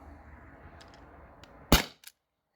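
A Beeman HDP50 Gen 2 pistol fires a rubber steel ball in a single sharp, loud crack, followed by a brief clack, over a faint room hum.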